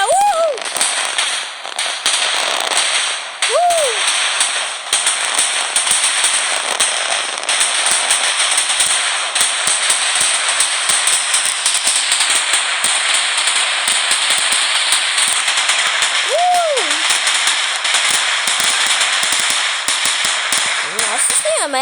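Fireworks in a fireworks video game burst in a steady stream of crackling, popping explosions over a dense hiss, with occasional rising whistles, loud and continuous for about twenty seconds.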